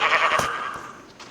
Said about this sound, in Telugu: మొత్తం గొర్రెలని బయటకు వచ్చినాయి